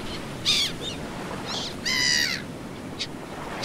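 Crow-like caws and bird calls ring out in a Stranded Deep island scene, several harsh bursts spaced over a few seconds against a steady background hiss of surf or wind.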